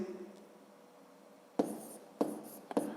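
A pen moves across paper writing numbers in three short, scratchy bursts, close and fairly quiet, following a stretch of near silence.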